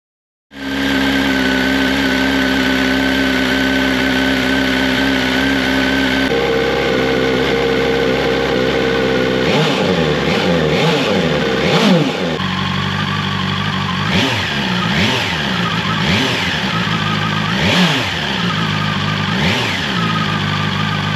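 A BMW S1000XR motorcycle fitted with a new Akrapovic exhaust idles steadily, then revs up hard in a series of sharp, raspy throttle blips that rise and fall close by, with no talking.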